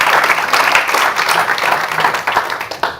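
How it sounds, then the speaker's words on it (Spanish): A church congregation breaks into loud, dense applause, with many hands clapping quickly and evenly and a faint crowd murmur underneath. The clapping stays full throughout and tails off slightly at the end. "Usted quiere darle un fuerte aplauso a Jesús."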